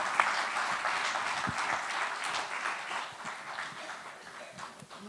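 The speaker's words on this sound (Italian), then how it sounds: "Un applauso per il grande Fabio." Warm applause from a festival audience, a steady patter of many hands that fades gradually toward the end, with occasional louder individual claps close by.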